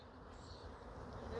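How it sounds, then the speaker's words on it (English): Honey bees buzz around an opened hive frame during a swarm inspection, a faint, continuous droning hum with slight wavering as they investigate nearby. "the bees definitely had a reaction to me opening this frame up"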